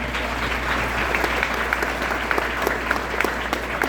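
Audience applause at a Lincoln Reagan political dinner in Putnam County, a dense crowd clapping steadily with a few sharper individual claps standing out near the end.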